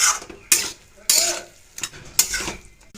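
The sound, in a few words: stirring bottle gourd curry with sprinkled flour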